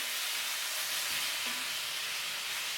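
Food frying slowly in oil turned down low, a soft, even hiss and faint crackle that continues steadily and close.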